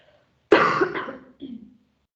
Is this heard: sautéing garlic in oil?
no